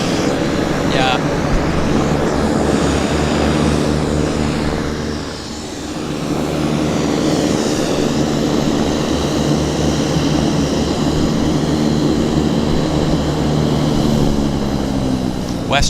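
An aircraft on final approach to Vancouver Airport, a continuous engine roar with propeller-like hum holding steady at close range, dipping briefly midway, with people talking beside it.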